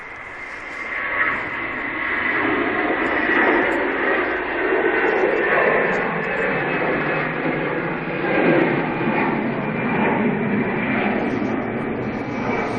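An Airbus A320 at Manchester Airport, bound for Dalaman, gives off a steady, continuous broadband jet roar that holds at a fairly even level throughout, like a distant aircraft engine rumble with no voices over it.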